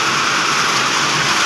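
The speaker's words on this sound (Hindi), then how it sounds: "बहुत ज़्यादा तेज़ बारिश है," Heavy rain pouring down during a violent storm in Delhi, a dense, steady broadband hiss with no breaks, loud and close.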